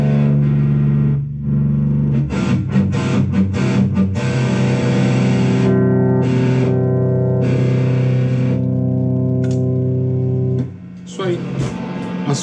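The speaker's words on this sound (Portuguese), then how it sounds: "E finalmente a troca de canais." An electric guitar plays distorted chords through a Mesa Boogie Tremoverb amplifier as it switches channels, with loud sustained chords, short gaps and a brief drop in level near the end.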